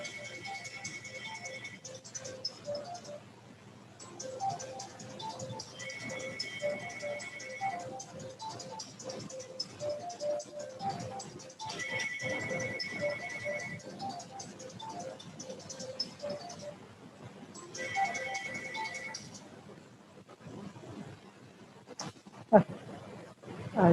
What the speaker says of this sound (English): I'm just going to let the phone finish ringing